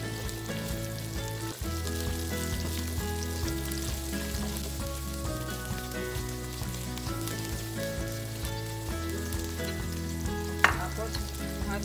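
Onion frying in a pan for chicken chow mein, a steady, close sizzle that continues throughout, partly masked by tonal background music, with one brief sharp knock near the end.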